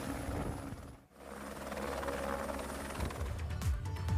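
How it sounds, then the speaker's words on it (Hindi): A rescue helicopter during monsoon flooding in Uttarakhand gives a continuous rotor and engine rumble, fairly distant and steady, with a brief dip around one second and some low thumps toward the end. "तो इनको रेस्क्यू करने के लिए हेलीकॉप्टर की मदद"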